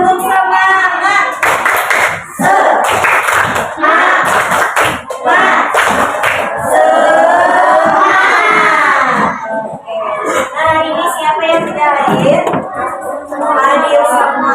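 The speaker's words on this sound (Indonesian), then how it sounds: "Biar semangat, kita tepuk semangat dulu deh." A school class doing the rhythmic 'tepuk semangat' spirit clap, loud patterned clapping from many children mixed with chanting and shouting voices, continuous and close throughout.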